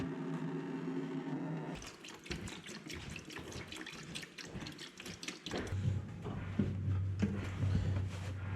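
Fluid trickling and splashing out of the Allen drain on a snow-plow truck after a warm-up to melt ice, a steady watery stream like a running tap with occasional metallic clicks, close by.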